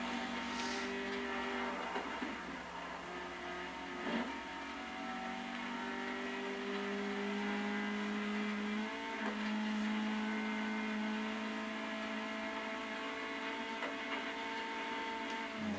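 A car engine drones in the racing video game Flatout Ultimate Carnage, a steady, moderately loud hum that climbs in pitch and drops back at several gear changes over about sixteen seconds, with no talking.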